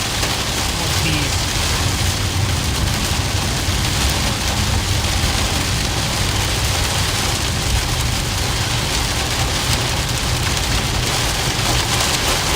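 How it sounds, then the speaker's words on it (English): Heavy rain mixed with small pea-sized hail drums steadily on a car during a tornado chase in Illinois, a loud, dense, continuous patter close around the cabin. "We're getting a little bit of pea-sized hail."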